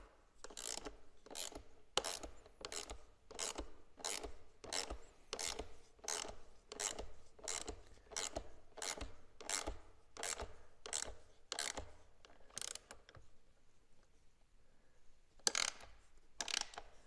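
A hand ratchet tightens the exhaust bolt on a Kawasaki KLX300R dirt bike, clicking in a quick, regular series of close strokes, a brief pause, then a few more clicks.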